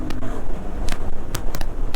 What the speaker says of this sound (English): listen to the sound of the engine and exhaust